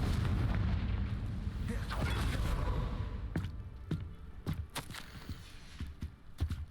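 A Confringo fire spell blast in the game Hogwarts Legacy: a deep, loud rumbling roar for about three seconds, fading into scattered crackles, thumps and footsteps.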